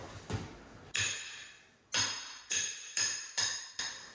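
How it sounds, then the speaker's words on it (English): Sharp metallic hammer strikes ring out one after another with short decaying clinks, about seven hits at an uneven pace, prying old shower wall tile off a wall. "pry off the tile from that rather than my hammer just breaking into the wall"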